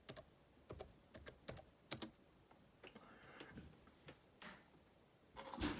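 Typing on a computer keyboard, close and quiet, with irregular clusters of crisp key clicks separated by short pauses and a final flurry at the end.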